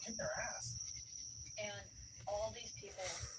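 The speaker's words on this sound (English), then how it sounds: "There's two different schedules of cicadas over here" A steady, high-pitched insect buzz drones on throughout, while a person talks over it.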